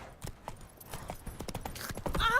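Rapid hoofbeats of a galloping horse in the video game The Witcher 3, a run of soft, close clip-clops, followed by a short, high-pitched cry.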